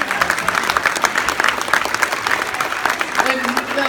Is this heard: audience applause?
yes